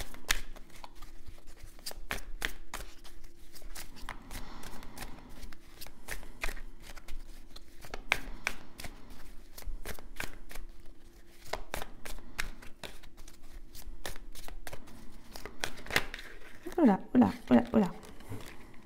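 A deck of tarot cards is shuffled and cut, giving dense, repeated riffling flutters and soft slaps at close range while someone speaks French over much of it.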